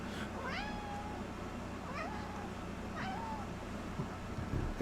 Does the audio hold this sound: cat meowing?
yes